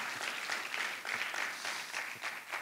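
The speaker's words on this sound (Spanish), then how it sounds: "Denle un aplauso al Señor." A church congregation in the Bronx applauds during a Spanish-language sermon, a soft, steady patter of many hands clapping, somewhat distant and continuous with no talk over it.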